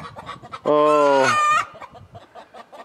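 Loud, close squawking from free-range hens, with one long harmonic call near the middle and softer clucking around it, while a person speaks briefly.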